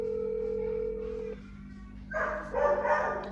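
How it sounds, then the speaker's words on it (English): A dog barks in short bursts toward the end, fairly close, after a steady tonal hum with faint voices in the background. "The dog."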